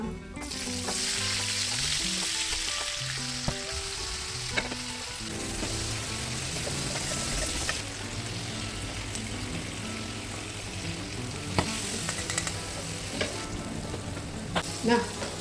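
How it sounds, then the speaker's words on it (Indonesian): Anchovies and melinjo crackers fry in hot oil over a medium flame, giving a steady, dense sizzle and crackle with occasional stirring clinks throughout, and no voices. "sambil kita ngegoreng ini, kita goreng juga lencaknya"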